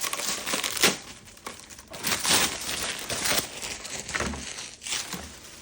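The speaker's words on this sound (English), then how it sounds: "Let me unwrap everything and then we'll go ahead and set it up." Plastic packaging around the parts of an Ingenuity potty training seat is unwrapped up close, crinkling and rustling in irregular bursts with occasional tearing sounds.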